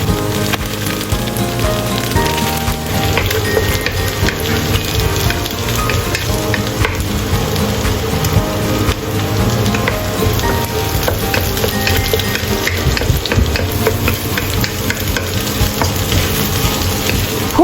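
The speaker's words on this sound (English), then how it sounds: "Pour in egg and scramble." Egg poured into a hot frying pan with onion and scrambled makes a loud, dense sizzle with stirring and scraping, continuous and close with no voices.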